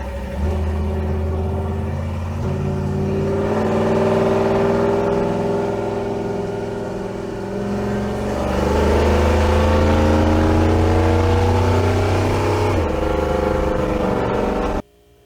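Truck engine with a Torqueflite 904 automatic transmission and a Transgo TF1 shift kit, a steady close drone rising and falling in pitch through several gear shifts as the truck accelerates.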